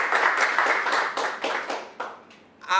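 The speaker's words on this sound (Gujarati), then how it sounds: "મારી સાથે ખૂબ દિલથી તાળીઓથી સ્વાગત કરો, એમને આવકારો" An audience claps to welcome guests onto a stage at a Gujarati film event. The bursts of applause are moderately close and taper off over a couple of seconds, then a voice starts at the end.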